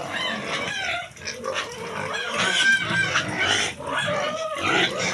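Pigs grunt and squeal repeatedly at close range, a busy, uneven stream of snorts and oinks with brief pauses.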